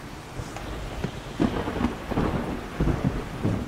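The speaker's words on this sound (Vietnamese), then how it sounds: "Trời đang mưa." Rain falls steadily by a river fishing spot during a storm, with a continuous wash of rainfall broken by scattered crackles and soft rumbles of thunder, no voices present.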